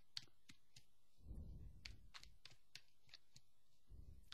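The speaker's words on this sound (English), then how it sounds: "So I'm just going to shuffle now." Tarot cards shuffled by hand, a sequence of soft quick clicks and riffling taps with a muffled thump, close and quiet.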